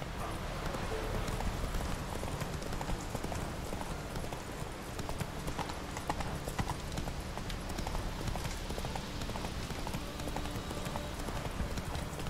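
Galloping hooves of a horse in The Witcher 3: Wild Hunt, a continuous rapid clip-clop rhythm at steady volume for the whole stretch, with no speech over it.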